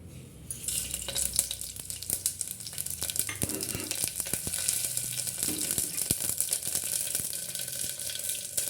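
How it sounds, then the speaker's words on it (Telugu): Tempering spices for sambar crackle and sizzle in a few spoonfuls of hot oil, a steady close frying hiss with sharp pops and faint utensil sounds, no talk. "తాలింపు సరుకులు వేసుకోవాలి."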